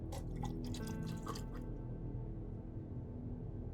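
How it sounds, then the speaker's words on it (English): Water is poured and spills, a wet dribbling and splashing close by during the first second and a half, then fading into a low steady hum. "I gotta pour more water."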